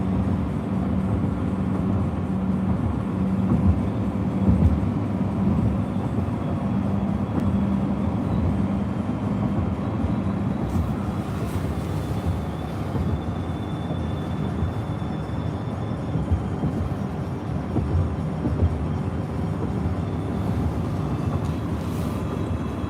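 Steady low rumble of a scrap-metal freight train rolling past at a distance on the BNSF Staples subdivision, continuous and unbroken, with faint metallic squeals rising briefly partway through.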